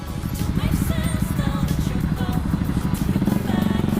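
KTM motorcycles ride past on a road toward Marilaque near Antipolo, their engines producing a continuous rumbling drone with rapid pulsing, moderately loud and close, with no talk over it.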